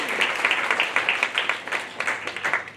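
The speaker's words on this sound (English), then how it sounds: "So please give her a round of applause." Sustained audience applause at a community celebration fills the room, many hands clapping in a dense, steady patter with small surges, fairly close and loud, no voices.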